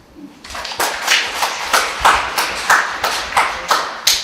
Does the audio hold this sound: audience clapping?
yes